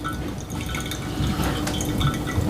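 Water pours steadily over ground Guatemalan coffee in a V60 dripper during the third pour, a continuous soft trickling and splashing stream close by with no talking.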